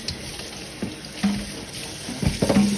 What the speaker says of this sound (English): Put you a little bit of water there.